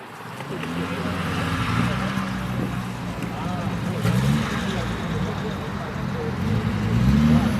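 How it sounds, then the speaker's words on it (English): A left-hand-drive E-Type Jaguar arrives at a car meet, its low engine rumble steady beneath people talking, swelling briefly as the revs rise twice. "we've got an E-Type Jaguar just about to come in as well"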